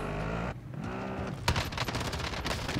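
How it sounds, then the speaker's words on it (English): Gunfire in Call of Duty Warzone, from a match using the AX-50 sniper rifle and MP5, cracks out in a sharp close shot followed by a rapid burst of rounds against a steady game backdrop. "See now, so I'm getting shot at."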